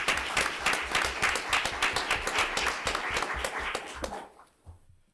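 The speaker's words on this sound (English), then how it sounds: "So let's just take a round of applause for all of them." A studio audience at a mayoral candidates forum in Laurel applauds the TV crew. The clapping is quick and distinct, with sharp individual claps that thin out and fade near the end.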